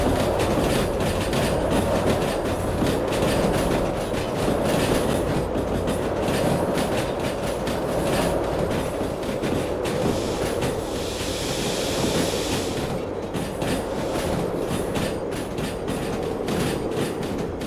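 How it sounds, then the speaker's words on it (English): A freight train in the railway game Derail Valley rolls and brakes, with loud steady rumbling and rhythmic clickety-clack of wheels over rail joints, sustained and close throughout. "Allow our train to do braking via the remote."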